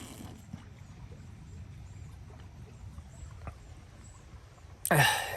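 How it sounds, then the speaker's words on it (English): Water is sipped through a leaky tree bark straw, heard as faint close-up sucking and gurgling with small wet squeaks, ending in a louder burst of slurping and rushing air. "You can hear as I drink out of it."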